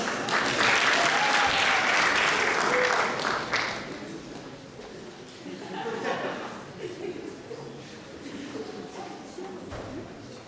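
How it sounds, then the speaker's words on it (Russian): Enthusiastic audience applause at a geology competition event, loud and dense for the first few seconds, then tapering into scattered clapping with background murmur and some voices. "Ваши бурные аплодисменты."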